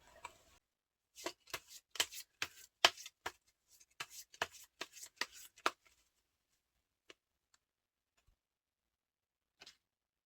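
Tarot cards are shuffled in a run of crisp, rapid riffles and snaps, followed by a few sparse, soft taps as single cards are drawn in an otherwise quiet room.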